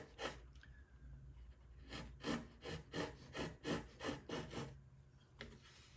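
A sharp gouge pares along the grain of a wooden guitar soundboard, making a steady series of about a dozen soft, rhythmic scraping strokes, close but quiet, with no talking.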